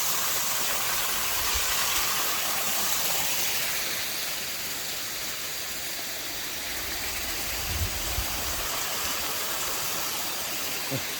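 A waterfall on a cliff above a valley at Phu Foi Lom in Udon Thani, Thailand, gives a steady, loud broadband roar of rushing water that stays even throughout, with no voices.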